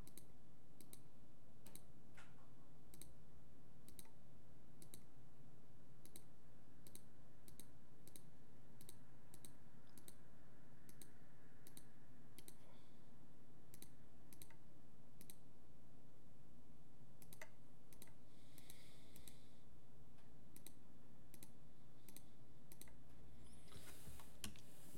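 Mouse buttons click at the computer in a steady, evenly spaced series of crisp, faint taps over low room hum while a curve is drawn in 3D software, with a brief clustered burst near the end and no talking.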